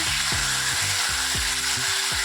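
Masala spice paste frying in hot oil in a pan, a steady sizzle with a few low scraping stirs at a regular pace, close and moderately loud, no voices.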